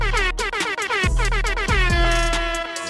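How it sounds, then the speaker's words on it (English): Loud, sustained horn blast with dense stacked tones running nearly three seconds, likely an air horn, with a few brief low thumps and shifts partway through and no talking. "let off the air horn for you"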